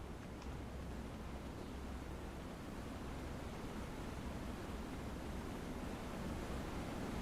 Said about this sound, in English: the waterfall is really, really well done